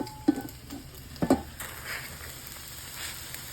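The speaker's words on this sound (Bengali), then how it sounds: "চিকেন টকবক করে ফুটতেছে।" Chicken curry with added water bubbles in a pot, a soft, low simmering patter broken by a couple of sharp clinks of a utensil early on, close and quiet with no talking.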